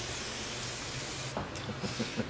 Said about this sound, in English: I'm going to give it the blaster spray